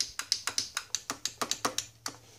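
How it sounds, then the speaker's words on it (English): Paddle shifters on a Fanatec sim-racing steering wheel clicking, about a dozen crisp plastic clicks in a fairly even rhythm, close and fairly quiet over a low steady hum. "Looks like it has paddle shifters on here. Nice little clicking noise."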